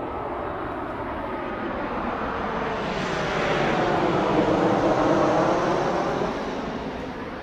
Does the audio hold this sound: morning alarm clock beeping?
no